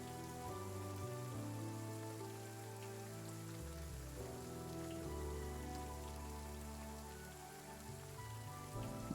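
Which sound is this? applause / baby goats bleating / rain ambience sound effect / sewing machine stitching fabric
rain ambience sound effect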